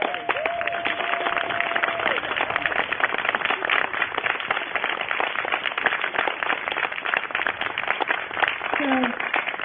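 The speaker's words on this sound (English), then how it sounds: "Can all the performers stand up and we'll give you one more round of applause?" Concert audience at a community music school event giving the performers a sustained round of applause, dense continuous clapping with a few voices and whistles mixed in.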